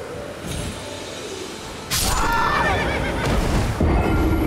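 Horse neighing in the video game Elden Ring, a loud whinny rising over a steady game soundscape with some crashing clatter around it.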